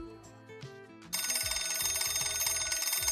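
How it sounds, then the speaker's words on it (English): A phone rings inside the Piofiore: Fated Memories video game, starting after a second of soft background music and then holding a loud, steady electronic trill to the end. "his phone rang"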